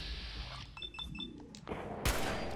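Gunfire in the video game Fallout 4 rings out in a rapid cluster of sharp shots, then a single louder blast near the end, over muffled in-game commotion.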